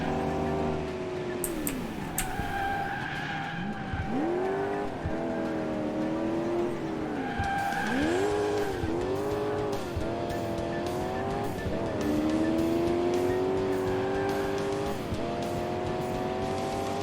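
A car drifts in the video game Crash Time 3, its engine revving up and down in rising and falling sweeps while the tires squeal long and loud through repeated slides, with no talking.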